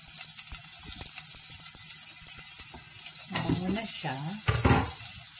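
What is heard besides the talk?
onion sizzling while frying in a pan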